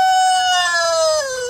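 A rooster crows once, loud and close, a drawn-out harmonic call that drops slightly in pitch toward the end.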